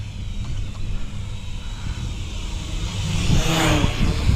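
Holy Stone HS270 drone passing by outdoors, a whirring rotor buzz that rises in pitch and loudness as it nears toward the end.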